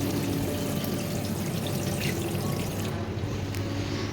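Water pouring steadily from a Plantex waterfall-style washbasin tap fed directly by the mains supply, a constant close splashing flow that runs on without pause.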